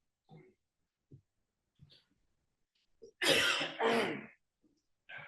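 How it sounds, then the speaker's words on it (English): A man clears his throat and coughs: a few soft, scattered throat sounds, then two loud, harsh coughs in quick succession, heard close in an otherwise quiet meeting room. "while I'm still coughing up here"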